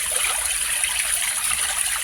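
Water pours steadily over wheat being washed, a continuous close hissing splash with no breaks and no voices.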